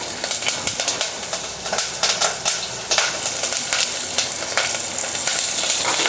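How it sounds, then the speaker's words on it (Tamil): Shallots, crushed garlic and curry leaves fry in a pan, giving a loud, steady sizzle close by with occasional stirring scrapes throughout. "பாருங்க பூண்டெல்லாம் நல்லா வதங்கி வந்துச்சு."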